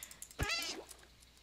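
A single cat meow from Minecraft, short and rising then falling, heard alone over faint background hiss.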